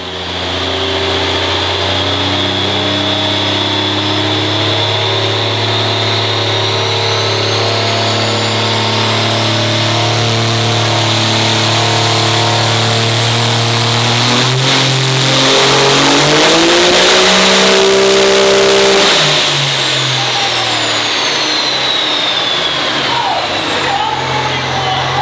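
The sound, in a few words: 1972 car engine revving during dyno pull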